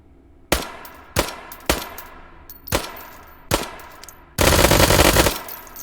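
A German firearm fires on a 15-meter shooting range in the VR game H3VR: five loud, sharp single shots at uneven intervals, followed by a short sustained rapid burst of gunfire.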